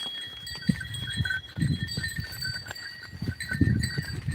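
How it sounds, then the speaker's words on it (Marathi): Cows and calves walk through a farm field on their way to graze, making soft, irregular hoof thuds and shuffling steps close by over a faint steady outdoor hum. "वासरं गाय मोरी लागली चालायला"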